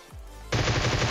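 Automatic gunfire in the PUBG Mobile game bursts in after a low hum and continues as a dense, rapid rattle of shots, loud and close, with no talk.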